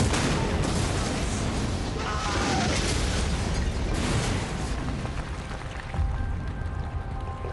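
A heavy, sustained roar of blast and rumbling debris fills the air, loud and dense at first and then slowly thinning out, with no voices, as a bomb goes off inside a concrete bunker complex at the Wolf's Lair on 20 July 1944.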